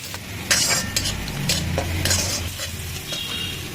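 Eggplant sizzles in a pan for bharta while a utensil stirs and scrapes it in repeated sharp strokes, close and fairly loud, with no talk.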